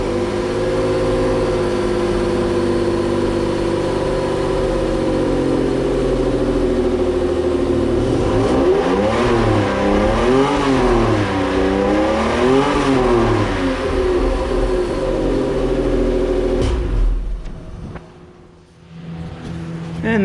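A Toyota 1MZ-FE V6 engine swapped into a 1991 Toyota MR2 idles with a steady low rumble, then revs up and down several times in quick succession before settling back and cutting off near the end.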